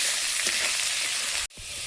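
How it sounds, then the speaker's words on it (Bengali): Kohlrabi and beetroot fry in a pan with a loud, steady, close sizzle that cuts out abruptly for a moment before resuming. "ওলকপি আর বিটটা হাফ ভাজা হয়েছে।"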